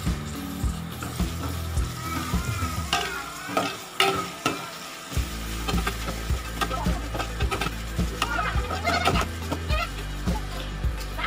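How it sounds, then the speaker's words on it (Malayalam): Green chilies and curry leaves frying in a pan while being stirred, a constant sizzle cut by frequent knocking spoon scrapes against the pan and rapid crackles, close and loud. "നന്നായിട്ട് ഇളക്കി കൊടുക്കുക."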